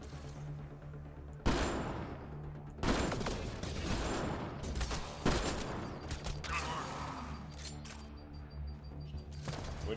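Gunfire in Mass Effect: Andromeda as a player shoots at aliens, with several loud, sharp bursts of shots over a busy, rumbling combat soundtrack. The fire comes in clusters spread across the stretch.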